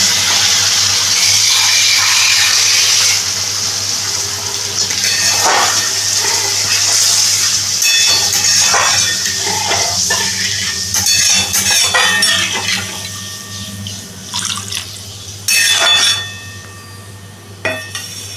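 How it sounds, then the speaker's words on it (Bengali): Water is poured into a spice mixture fried down in a pan, giving a loud rushing splash with clinks of a utensil against metal cookware and gurgling that eases off toward the end, with no talking. "এটার মধ্যে জল দিয়ে দিলাম।"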